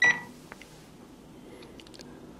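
HKC SecureWave alarm keypad giving one sharp, loud beep as a button is pressed, followed by faint button clicks in a quiet room.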